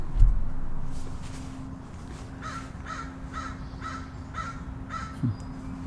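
Crows cawing outdoors, a steady series of about six evenly spaced caws from a moderate distance over faint background noise, with a couple of soft thumps.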